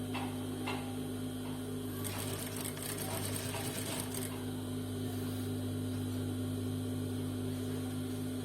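A sewing machine stitches an Afghani salwar with a steady mechanical hum and fast ticking, with a brief stretch of louder rapid needle clatter in the middle, close and continuous.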